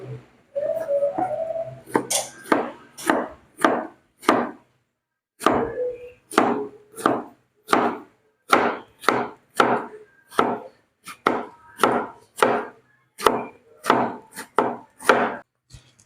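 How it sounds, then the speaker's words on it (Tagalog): A knife cuts food into cubes on a board for a fern salad with salted eggs, giving a regular series of sharp, close chopping knocks, about twenty strikes with a short pause early on. "I-slice lang natin ng pa-cube-cube"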